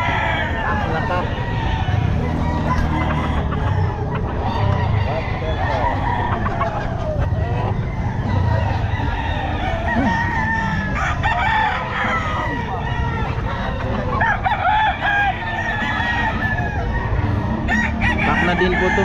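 A white Kelso gamefowl rooster crows repeatedly at a busy pet market, its calls ringing over crowd babble, nearby clucking and traffic, while people talk in the background.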